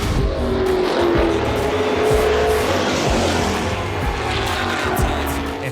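Race cars at Talladega Motor Speedway roaring past in a loud, continuous high-speed whine, with engine pitch sweeping as cars pass and a faint tire squeal, heard from close range.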